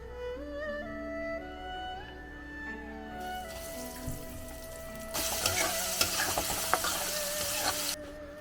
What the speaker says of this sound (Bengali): কিছুটা ভাজা হয়ে গেছে আর বাকিটা ভাজতে এখন দেবো